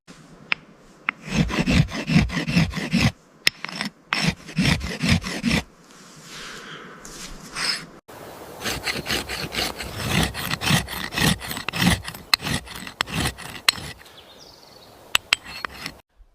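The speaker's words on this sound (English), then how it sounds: "Just sharpening up my trusty axe. Quick tip, always use a good flat stone." An axe is sharpened on a good flat stone outdoors at a log cabin build, rapid rasping strokes in bursts with short pauses, close and fairly loud, with no talking.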